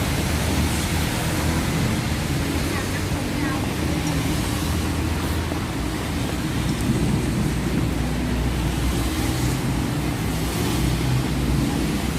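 Heavy rain pours steadily at a roadside noodle stall near Ang Sila junction, a dense continuous wash of noise with low rumbling that may be distant thunder throughout.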